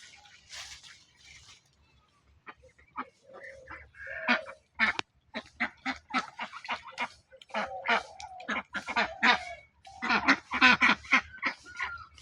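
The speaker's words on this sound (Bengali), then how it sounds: "এখানে হাঁসগুলো রাখছে। তারা এই যে মনের আনন্দে এখানে গোসল করতেছে, ফুর্তি করতেছে।" Ducks quack and honk repeatedly in lively, uneven bursts, several birds calling close by while bathing in water, with short pauses between clusters.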